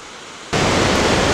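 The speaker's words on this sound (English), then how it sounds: "And there's further down where it's creating a waterfall." Water spills over a small waterfall on a New Hampshire stream, starting softer and then jumping into a loud, dense, unbroken roar close by.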